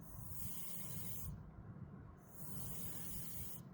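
Refrigerant hisses steadily out of a loosened valve, a faint continuous broadband rush with short dips in the upper hiss, with no talk over it.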